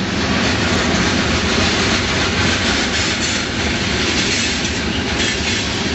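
A freight train of graffiti-covered tanker cars rolls past close by, a loud unbroken roar of wheels on rails with rhythmic clatter and faint squeals.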